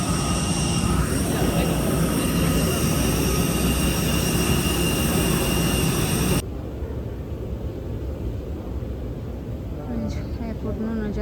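Airplane at an airport, a loud steady jet engine roar close by that drops abruptly to a quieter rumble partway through, with faint background noise after.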